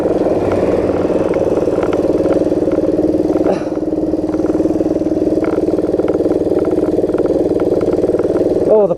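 A Honda PC50 moped engine labours up a steep hill, a loud, steady, buzzing drone that holds on throughout with a brief dip midway, close to the microphone.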